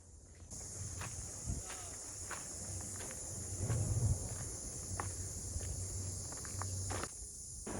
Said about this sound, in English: you can hear sounds from forest insects like crickets